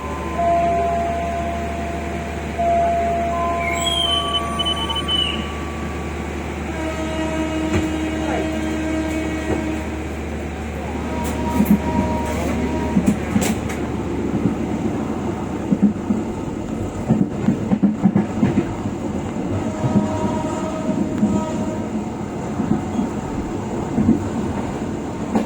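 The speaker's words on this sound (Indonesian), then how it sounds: "Setelah itu saya naik kereta dari Kalibaru ke stasiun Waru." Passenger train ride in Indonesia between Kalibaru and Waru stations, a steady low rumble of the carriage with rattling clacks over the rails, heard from inside and fairly loud throughout, with faint tonal sounds near the start.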